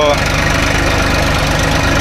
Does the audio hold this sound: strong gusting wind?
no